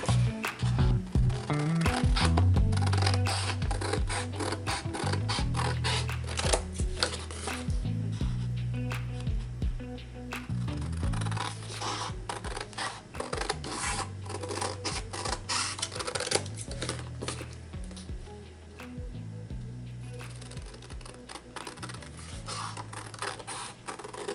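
Scissors cut out a printed paper envelope in a steady run of crisp snips and rustles, close and continuous, with a low background hum throughout and no talking.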